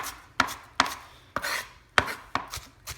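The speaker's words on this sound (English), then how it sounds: "I'll be back when I have this diced to my liking." A knife dices an onion on a cutting board, about eight crisp, spaced chops in an uneven rhythm, close and clear with no talking.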